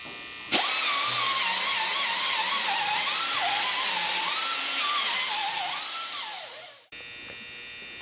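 A power tool whirs steadily at high pitch while cleaning the gasket surface of a hydraulic lift cover, running loud and close for about six seconds before winding down, then a quieter hum continues.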